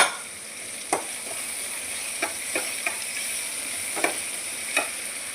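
Onions sautéing with rock salt in a pan make a continuous soft sizzle, punctuated by several sharp spatula clinks and scrapes at irregular intervals.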